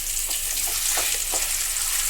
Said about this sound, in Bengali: ফ্লেমটা লো করে 3 থেকে 4 মিনিট ভালো গন্ধ আসা পর্যন্ত আমরা ভেজে নেব, একদম শুকনো কড়াইয়ে।